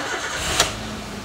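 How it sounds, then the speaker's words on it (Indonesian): A 2009 Toyota Avanza G car engine cranks in one short burst, then settles into a steady low idle hum, heard up close and fairly loud with no talking. "Saya akan nyalakan mesinnya."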